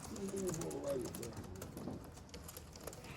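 Tippler pigeons, hens in a competition loft, coo softly in a few low rolling calls near the start, with someone talking nearby and faint background noise.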